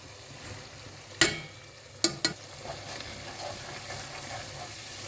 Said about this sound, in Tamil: இந்த எண்ணெயிலே ஒரு வாட்டி இதை வதக்கிக்குங்க.